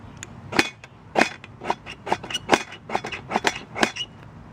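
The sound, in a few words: Leatherman Supertool 200 striking Swedish firesteel onto cotton ball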